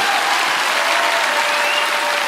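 Audience applause for Dr. Gabor Maté at a talk, a dense, even wash of many hands clapping steadily and loudly throughout, with no talk over it.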